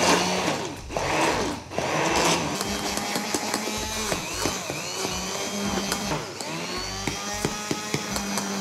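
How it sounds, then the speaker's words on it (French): Hand blender whirring in a kitchen while making an emulsion for warm asparagus, a loud continuous motor whine with shifting pitch and brief dips, close-up and steady throughout. "À l'aide d'un mixeur, je vais faire l'émulsion."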